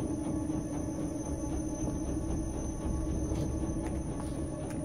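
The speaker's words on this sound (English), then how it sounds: "There's another train full of people." A train carrying people rumbles past in the video game Inside, a steady loud low rumble with faint high hiss running throughout, no voices over it.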